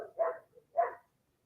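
A puppy gives two short, sharp barks close by, separated by a brief pause, then falls silent in an otherwise quiet room.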